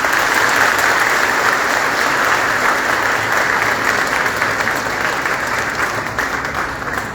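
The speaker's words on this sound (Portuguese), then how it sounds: "Uma salva de palmas para ele." A congregation applauds during a Pentecost Mass at a church in Angical, Bahia. The clapping is dense and steady, filling the room at even strength from start to finish with no voices on top.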